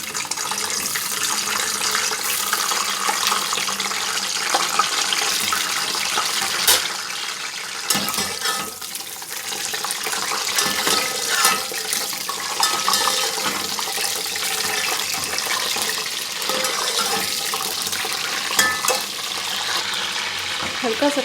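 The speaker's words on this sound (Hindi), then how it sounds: "बारी बारी ये शिमला मिर्चें हल्की फुल्की फ्राई कर लेंगे" Stuffed capsicums lightly frying in hot oil in a home kitchen, a steady broad sizzle running throughout with stirring and scraping clatter, loud and close, no talking.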